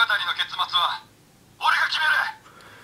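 Gatrike Phone, a Kamen Rider Saber trike-transformation DX toy, sends out two short electronic voice and sound-effect bursts through its small speaker, harsh and tinny, with a brief gap between them.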